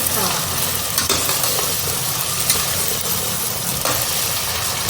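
Green chili, garlic and ginger paste sizzles and fries steadily in a pan while it is stirred, a constant loud crackling hiss with faint scraping, close by and without talk.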